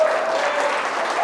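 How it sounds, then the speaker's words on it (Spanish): Applause from a church congregation at a sermon, a steady, dense clapping from a crowd filling the whole short stretch at even loudness. "Da un aplauso bien fuerte."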